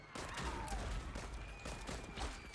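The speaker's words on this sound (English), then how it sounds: "The Panteras are here and they're firing indiscriminately." Bursts of gunfire from the Panteras gang in Saints Row crackle in a dense, scattered fusillade, with rapid overlapping shots at moderate volume over a busy background.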